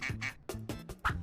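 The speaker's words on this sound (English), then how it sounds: "it's a duck." A duck quacks four times in a quick, loud, close run of nasal calls, with a short gap before the final quack.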